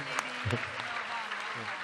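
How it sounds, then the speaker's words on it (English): A round of applause from the audience at a panel discussion on women shaping the global economy, faint and brief, heard under an ongoing speaking voice. "let's give another round of applause to all three of them"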